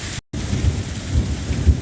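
A heavy rainstorm pours down steadily with low rumbling thunder, broken by a brief silent gap near the start, and no voices.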